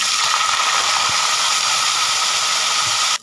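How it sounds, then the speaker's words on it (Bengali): Cauliflower pieces fry in hot oil for a Bengali potato-cauliflower dish, giving a steady, loud, dense sizzle and hiss that runs unbroken, close up, until it cuts off abruptly at the end. "একইভাবে এই ফুলকপিগুলোকেও ভেজে নেব।"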